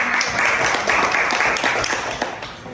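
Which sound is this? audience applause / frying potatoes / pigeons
audience applause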